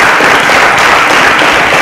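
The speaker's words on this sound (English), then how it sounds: "A round of applause for Chika." Studio audience on a quiz show breaks into dense, steady applause, loud and close, filling the whole short moment with no voices over it.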